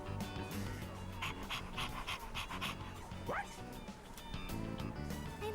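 Koromaru the dog from Persona 3 Reload pants steadily at close range, with a few short yips and bow-wow barks over game music, and a whimpering rise near the middle.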